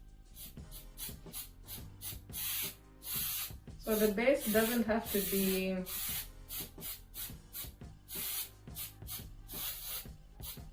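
Spray paint hissing onto a bottle in a gold and black craft project, in repeated short bursts with one longer spray pass, while someone talks between them.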